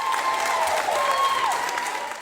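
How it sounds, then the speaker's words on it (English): Hospital doctors, nurses and staff lining a lobby clap and cheer in a steady, dense wash of applause with a few whistling or voiced tones rising above it, sustained throughout and tapering slightly at the end. "Doctors, nurses, and staff surprised her by lining the lobby, clapping, and cheering her on"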